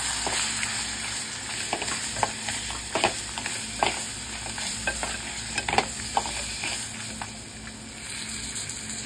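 Crabs frying in a pan with red chilli and turmeric masala, a steady close sizzle with repeated clicks and scrapes of stirring.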